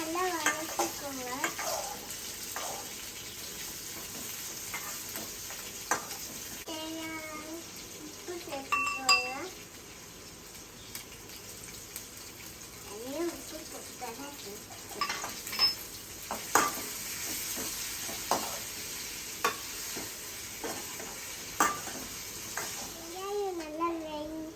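Onions stirred and sautéing in a pan for a semiya breakfast dish, with a steady sizzle, scraping utensil strokes and a voice talking over the cooking.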